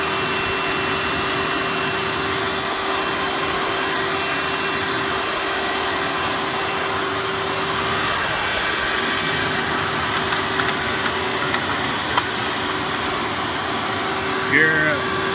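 A Hoover Preferred Elite U5095-930 upright vacuum cleaner runs continuously, producing an even motor drone with a fixed whining tone and no pauses.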